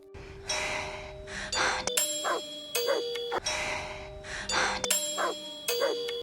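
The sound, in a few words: doorbell ringing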